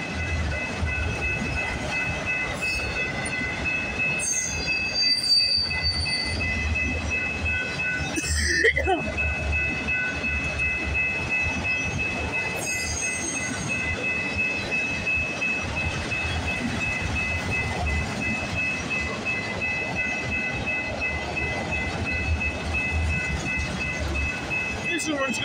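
A CPKC freight train carrying many auto racks rolls past at Bronte Street on the Galt Subdivision, a continuous rumble of cars with wheel squeals, clanks and a steady high whine throughout.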